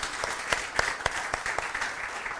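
Congregation clapping in a church service, a steady patter of many hands with sharper individual claps standing out, moderately loud and continuous throughout, with no talk over it.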